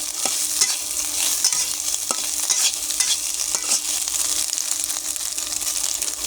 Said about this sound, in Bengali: দিয়ে ভালো করে নেড়ে দিয়ে